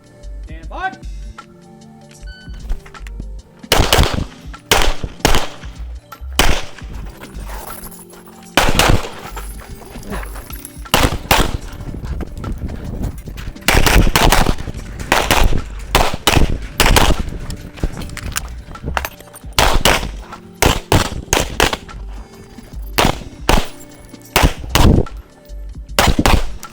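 Rapid gunfire on a stage of a large shooting competition, a string of loud, close, sharp shots in quick bursts with brief pauses, with people talking between the strings.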